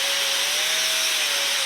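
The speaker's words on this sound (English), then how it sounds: "So I'll hit this with a grinder and give you guys a look." A grinder runs over a flux core weld bead made with an Arccaptain MIG 200 welder, giving a brief, steady, close-up whine with an even gritty hiss.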